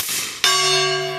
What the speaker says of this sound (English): Let's put it on the gong.